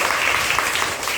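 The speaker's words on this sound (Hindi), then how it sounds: "तो जोरदार ताली बजाइए।" Classroom of students applauding loudly, a dense, continuous wash of many hands clapping together, brief and close.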